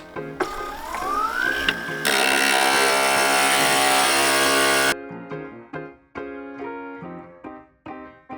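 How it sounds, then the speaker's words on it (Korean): An electric grinder shapes cut pieces of stained glass, with a rising whine that settles into a loud, steady grinding buzz for several seconds before it cuts off and is followed by intermittent shorter bursts. "각 조각을 도안에 맞춰 그라인더로 갈아줍니다."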